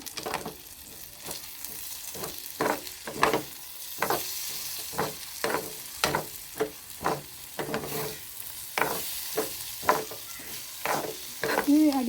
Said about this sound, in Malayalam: നന്നായി വറുത്തിട്ടുണ്ട് ഇനി തീ ഓഫ് ചെയ്യാം